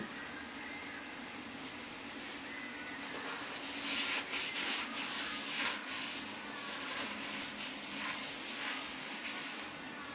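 A honing stone works the inside of an engine cylinder sleeve on a Blockzilla junior dragster engine block, giving a steady abrasive rubbing and scraping that swells in strength midway and runs on without a break, close and fairly quiet.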